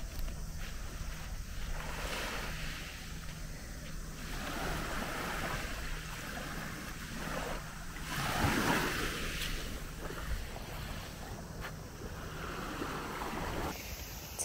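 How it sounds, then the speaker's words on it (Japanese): Gentle waves wash repeatedly against the Seto Inland Sea shore, a soft, continuous surf with a few louder splashes, heard faintly with wind and no talking. "海だ。"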